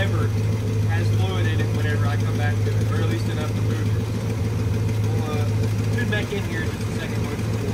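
A 1965 Chrysler police car fitted with glass-pack mufflers idles while warming up, a steady low rumble running throughout, with someone talking over it.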